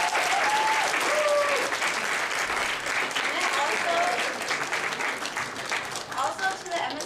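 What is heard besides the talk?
audience applause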